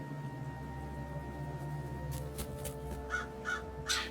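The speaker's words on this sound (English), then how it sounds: "the reverberating cry of a crow overtaking the sound of brutal rainfall" A crow caws several times, rising into a short series of harsh, evenly spaced calls with some reverberation, over a steady, droning background.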